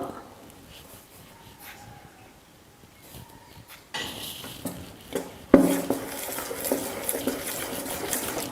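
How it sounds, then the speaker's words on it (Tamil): Dosa batter of rice flour and salt stirred in a vessel, quiet at first, then louder scraping and sloshing strokes with a sharp clink, continuing steadily to the end. "இந்த மாவுக்கு தேவையான அளவுக்கு உப்பு போட்டு மாவு நல்லா கரைச்சி வச்சிடலாம்"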